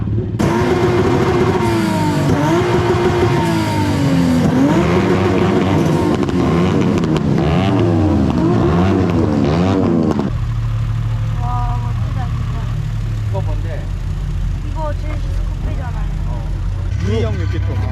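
Gymkhana car engine held stationary and revved hard against a 4000 rpm limiter, rising and bouncing off the cut repeatedly for about ten seconds, then dropping to a steady loud idle with voices talking faintly over it.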